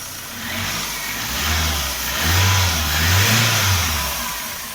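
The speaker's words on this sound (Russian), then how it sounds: "моторчик мы завели, он работает." A car engine, freshly repaired after a knocking fault, runs close up with no voices. Its rough mid-pitched drone swells and falls in a few moderate revs over a steady idle.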